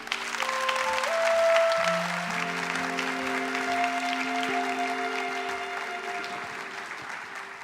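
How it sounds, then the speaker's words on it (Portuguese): Church congregation applauding during worship, a steady wash of clapping beneath sustained organ or keyboard chords, moderately distant. "E aplauda Jesus."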